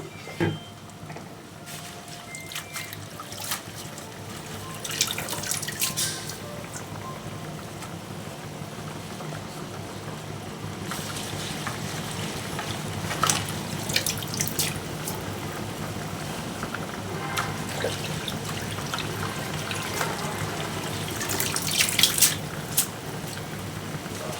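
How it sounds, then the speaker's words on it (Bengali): Water comes to a boil in a cooking pot, ready for leafy greens: a steady, soft bubbling hiss that runs on for the full stretch, moderately close, with no voices. "জলটা ফুটে উঠলো"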